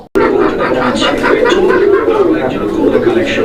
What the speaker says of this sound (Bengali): দর্শক চিলা কবুতরের ডাকটা আমি আপনাদেরকে দেখানো ট্রাই করতেছি